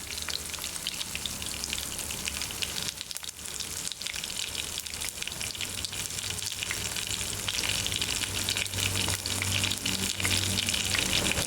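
Crushed garlic and asafoetida sizzle hard in hot oil while tempering a taro root tamarind stew, a dense continuous crackle that swells louder in the second half, with no voices.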